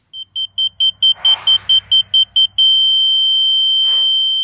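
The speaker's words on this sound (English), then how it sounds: "You hear a series of beeps when you're real close." An electronic water level tool gives a rapid series of about ten short, sharp, high beeps that merge into one continuous loud tone, with faint background handling noise.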